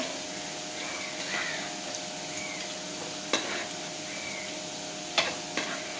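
Snack mixture deep frying in hot oil until crispy, a continuous even sizzle with a couple of sharp clicks of a spoon or ladle against the pan, no one talking.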